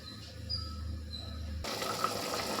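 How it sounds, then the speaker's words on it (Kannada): Water being poured into a cooking pot for rice in a home kitchen while making tomato bath. A low hum gives way partway through to a steady splashing pour. "ಅಕ್ಕಿ ಬೇಕಾಗಿರೋ ನೀರು ಹಾಕೊಳ್ಳೋಣ"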